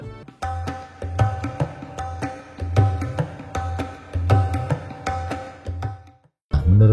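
Tabla hand drumming in an Indian music piece: a rhythmic run of struck low booming and sharper ringing tones, with sustained pitched notes above, loud and close, stopping briefly near the end before resuming.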